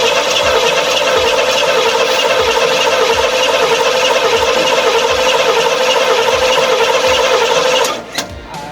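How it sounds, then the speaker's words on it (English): Corvette engine cranking hard and repeatedly in a steady rapid churn, loud and close for nearly eight seconds, then abruptly cutting off at the end rather than catching. "So you just flick the key, and as soon as it starts to roll over, hold it."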